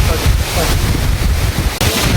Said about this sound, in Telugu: చాలా గాలి అయితే చాలా ఎక్కువ వస్తుంది ఇక్కడ